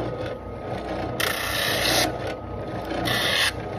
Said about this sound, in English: Now, finishing that up, you can use a drum sander